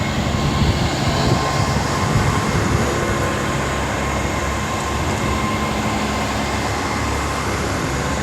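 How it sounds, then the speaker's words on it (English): A diesel train passing through Oxford station, a loud steady roar of engine and rolling stock that fills the whole stretch without pause. "These just sound so good on the diesel power."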